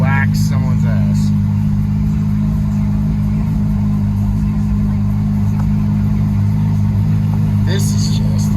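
A Ferrari F8 supercar sits in race mode with its engine running, a loud, steady low rumble filling the whole stretch alone, with faint clicks and brief higher noises near the start and end.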